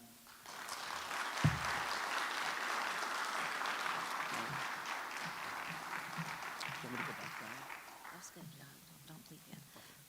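A Houston audience applauds after a speech, steady dense clapping from a sizable crowd that swells early, holds for several seconds and tapers off, with faint voices mixed in toward the end.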